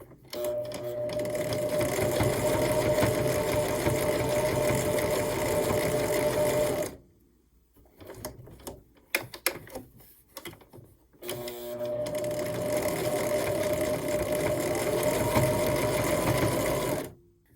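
A sewing machine stitches around the binding of a tiny Christmas tree mini quilt, running steadily for about seven seconds, pausing with a few soft clicks and handling noises, then running again at a loud, even pace.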